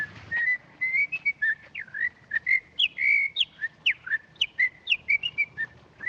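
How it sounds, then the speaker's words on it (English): Someone whistles a lively jig outdoors on a street: a quick, bouncing run of clear, high notes, close and steady, with no talking. "Nice day of the week to be whistling in a jig on the streets"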